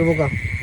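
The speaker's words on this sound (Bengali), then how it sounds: "চারিদিকে এই যে জিজি পোকা ডাকি" Crickets shrill steadily and continuously around a boat in a village at night, a thin high drone that starts under a brief voice and then carries on alone.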